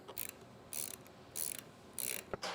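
A hand ratchet tightens a roof rack bolt on a 2024 Land Cruiser 250 in quick clicking bursts, four or five short runs of close ratcheting with quiet pauses between.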